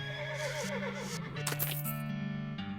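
A horse whinnies in the western role-playing video game West of Loathing, a clear neigh over the game's steady background music with a light clip-clop.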